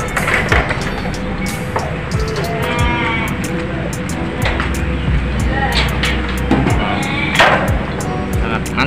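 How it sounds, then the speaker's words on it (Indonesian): Sheep bleat repeatedly in a busy livestock pen, their calls rising over steady farm noise and clatter while a person talks throughout. "Sangat bagus domba-domba ini tumbuh subur."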